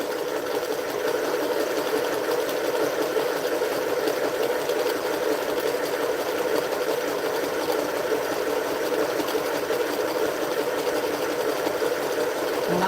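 A sewing machine winds a bobbin during quilt top assembly, a steady, even mechanical whir that runs without a break at moderate volume and with no talk.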